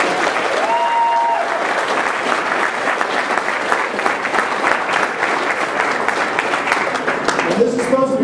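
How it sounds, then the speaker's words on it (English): An audience at a JROTC change of command lunch claps steadily for several seconds, a full room of hands ringing out with a faint background murmur of voices. "you should give everybody give Sal a round of applause for everything"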